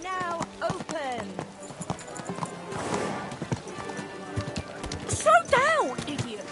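Rhythmic hoof clip-clops of a horse in a Kingdom Come: Deliverance II game scene, mixed with talking voices and a brief whinny near the end.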